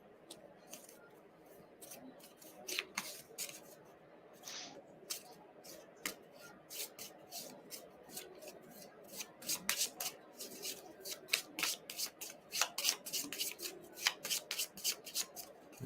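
Playing cards for the board game Targi shuffled by hand, repeated crisp riffles and snapping bursts close up, growing louder and denser toward the end.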